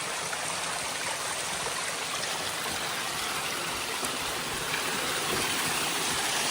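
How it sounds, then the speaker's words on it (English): A waterfall cascades down a rocky mountain trail on a hiking loop, a loud, steady rushing roar of falling water that fills the whole stretch with no voices. "You gotta go right up this crazy waterfall."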